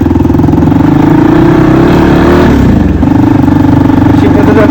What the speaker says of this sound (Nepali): साइलेन्सर बिनाको बाइक पनि छान्छ केटा हो